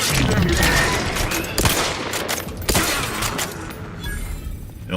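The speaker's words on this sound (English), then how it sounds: "Don't be shooting your firearm at me, pal." Firearms blaze in a fight in the video game The Outer Worlds 2, a loud, close fusillade of overlapping shots and crackling bursts with sharp peaks standing out from the steady barrage.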